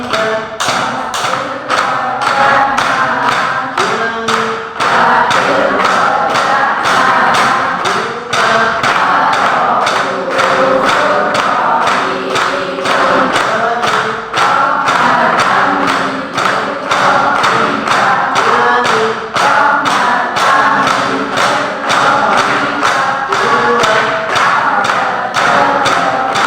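Steady rhythmic tapping marks a three-beat count, with evenly spaced knocks running continuously over a dense, sustained tonal background.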